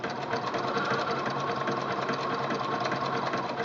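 A Singer Quantum L-500 sewing machine stitches a wide zigzag, its fast even mechanical chatter running loud and unbroken throughout, close and alone.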